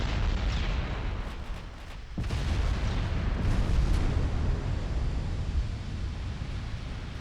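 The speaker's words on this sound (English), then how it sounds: "the 6-inch guns are opening up" Six-inch naval guns firing in the Ultimate Admiral Dreadnoughts naval battle game, a sharp blast near the start of a dense, rumbling roar of distant gunfire that swells and stays heavy throughout.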